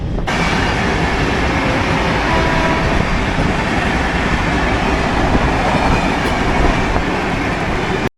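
The Farakka Express train at a station gives a loud, unbroken rumbling roar that holds steady for the whole stretch with no voices.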